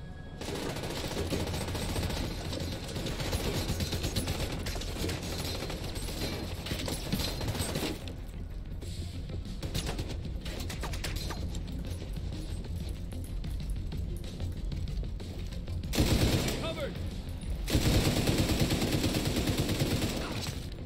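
Rapid automatic gunfire from The Division 2 rattles almost nonstop as dense, loud bursts, with brief lulls and sharp impacts mixed in.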